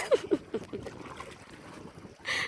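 A boat is paddled across Twin Lakes in Negros Oriental, with a few close, distinct splashes from paddle strokes early on, then softer water trickles and a light wash of wind.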